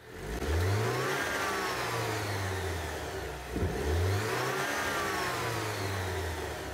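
A stock Alfa Romeo Giulia 2.0T four-cylinder turbo engine, before an intake upgrade, revs up loudly twice, each rise climbing in pitch and falling back, with a brief pause between the two close, strong pulls.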